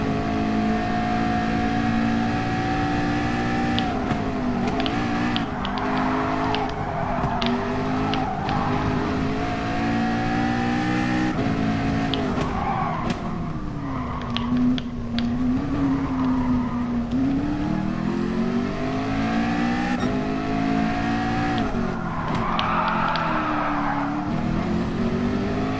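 A McLaren 620R driven hard on a race track, its engine roaring loud and close with rising and falling revs through gear changes, plus tire squeal and skidding as the car slides through corners.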